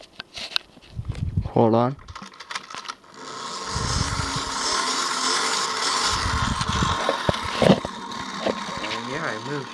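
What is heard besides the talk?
wind-up tin toy space trooper being wound and walking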